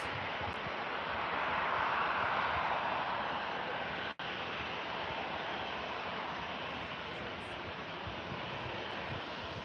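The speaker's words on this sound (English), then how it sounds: "Beautiful, beautiful aircraft on takeoff." Boeing 787 taking off at Manchester Airport, a loud steady broadband jet roar that holds strong throughout with one brief dropout, heard from outdoors with no talk.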